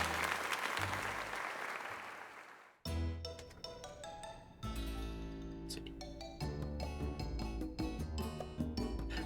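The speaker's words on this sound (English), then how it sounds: "let us give another heartfelt round of applause to Mercury" Applause for the character Mercury plays in the video game Pokemon Legends ZA, a brief crowd-clapping burst that gives way to bright, layered game music with sharp chimes and a steady beat.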